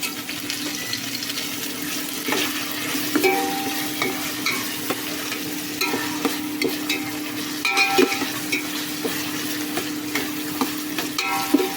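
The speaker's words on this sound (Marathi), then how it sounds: "कांदा चांगला बॉईल व्हायला देऊया." Onions cooking in a pan for mutton rice give a steady, moderate sizzle with scattered clinks and scrapes of stirring, while a faint watery wash runs underneath.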